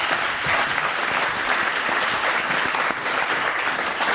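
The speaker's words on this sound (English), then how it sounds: "Let's give them another round of applause." Steady, sustained audience applause fills the whole stretch for speakers at a coastal finance conference, a dense, even wash of many hands clapping together with no talk over it.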